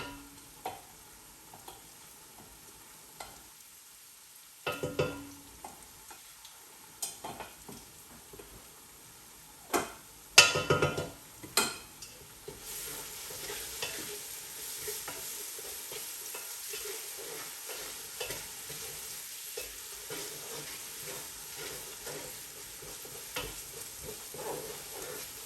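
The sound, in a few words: garlic frying and being stirred in pan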